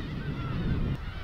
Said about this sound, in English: that's all seagulls.